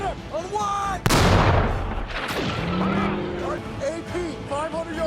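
Tank gun fire in a war film battle scene. One loud sharp cannon blast is followed by a second heavy report and a rumbling tail, with shouted voices and a chaotic background underneath.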